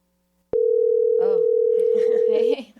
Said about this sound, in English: Oh, hey, the phone's ringing.